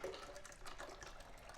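Hot tomato basil soup liquid pours steadily into an Instant Pot, a continuous close splashing, trickling flow of even loudness lasting the full short stretch with no talking over it.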